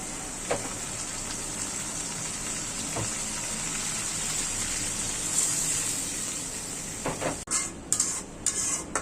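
Water poured into a pan of frying turmeric, chili and salt spices gives a steady, loud sizzle and hiss, with a few soft stirring knocks and clatter near the end.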